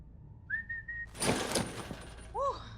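A taunting whistle from the handler at a captive Artemis in the Monster Hunter movie: a short rising-falling whistle, then a crash of noise, and a final two-note swooping whistle, fairly close.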